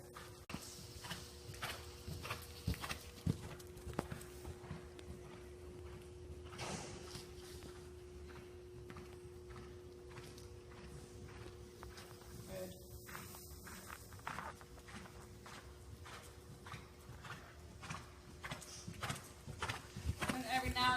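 A horse cantering during a riding lesson, its hoofbeats falling in a steady repeating rhythm over a constant low hum, at moderate loudness for the whole stretch.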